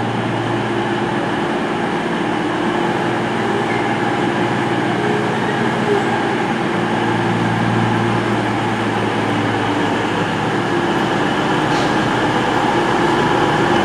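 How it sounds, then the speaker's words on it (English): A train pulling out of Newton Abbot station, heard from on board as a loud, continuous rumble of wheels and engine with a steady low drone throughout. "we're now departing Newton Abbot."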